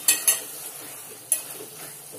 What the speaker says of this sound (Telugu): వేసిన తర్వాత బాగా కలిపేసుకోండి.